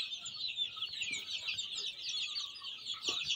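A brooder full of two-week-old chicks under an infrared bulb chirps constantly in a dense, high-pitched chorus, close and steady, with faint soft knocks beneath and no talk.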